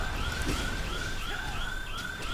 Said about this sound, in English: Oh my god, that siren is so annoying.